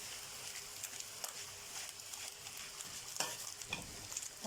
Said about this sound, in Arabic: هحط الكمون واديله تقليبه كده